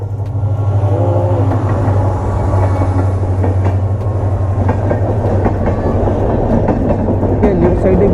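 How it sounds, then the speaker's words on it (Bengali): A train passes close by at a railway crossing at Sevoke, a loud continuous rumble with steady clickety-clack from the wheels rolling over the rails. "সেবক ক্রসিংয়ে দাঁড়িয়ে আছি, আর আমাদের সামনে দিয়ে"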